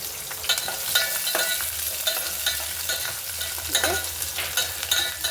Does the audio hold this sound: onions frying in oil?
yes